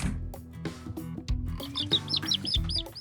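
Week-old baby chicks peep in a cage, a cluster of high thin chirps close by over low rumbling handling noise and soft thumps.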